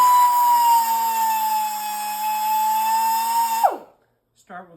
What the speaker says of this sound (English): I mark with the Sharpie, and I just cut that tooth off